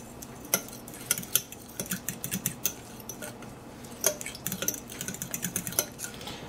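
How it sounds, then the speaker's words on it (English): Homemade coconut flour being stirred into waffle batter, with a utensil clinking and scraping against a bowl in quick, uneven taps, close and fairly quiet. "Now we're going to mix in the homemade coconut flour"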